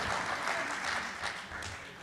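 An audience claps at an alumni achievement award ceremony, a dense, steady round of applause filling the room at moderate volume.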